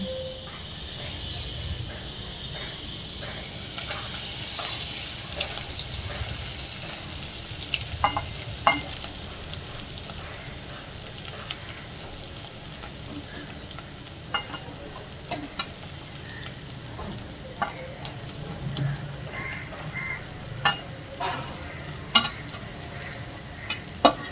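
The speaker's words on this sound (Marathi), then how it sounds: "तेल गरम झाले आहे, त्यामध्ये सारण परतवू." Maswadi filling sautés in hot oil with a sustained sizzle that swells early on. Scattered spatula taps and scrapes run throughout, close and moderately loud, and no one speaks.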